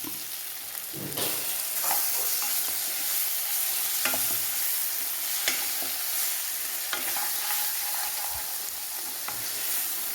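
Chopped tomatoes sizzling and frying in hot oil for a pork curry, a steady crackling hiss close up with occasional stirring scrapes and clinks.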